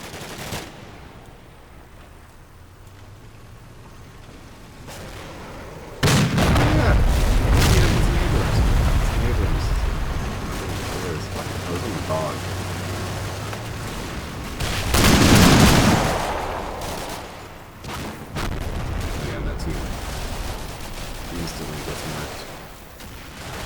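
Gunfire and heavy impacts ring out in a Combat Mission: Black Sea battle as machine-gun rounds strike a tank, with loud booming bursts around the six-second mark and again near fifteen seconds over continuous rumbling combat noise.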